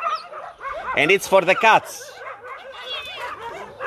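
Shelter dogs in a large enclosed outdoor yard yip and bark in a loud burst, with someone talking over and around them throughout.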